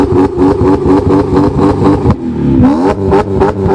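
A BMW M car fitted with a full stainless steel exhaust system revs hard and loud, its engine note rising and falling through a string of throttle blips with a brief dip midway, close by and with no talking.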